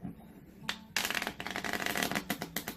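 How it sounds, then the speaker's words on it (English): Cards riffled and shuffled up close, a short soft burst followed by a longer rapid flutter of card noise with a few sharp snaps at the end. "you're going to shuffle the deck to ensure your audience that the deck is shuffled"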